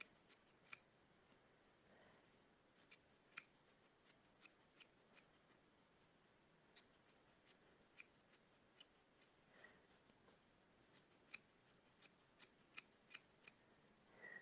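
Scissors trim a striped yarn pom pom, making quiet, crisp snips in quick runs of several cuts with short pauses between the groups.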